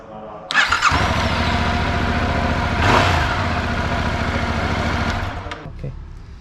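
A 2021 Yamaha MT-07 motorcycle fitted with an aftermarket exhaust fires up close by and settles into a loud, steady idle with a brief rev in the middle, while people talk over it.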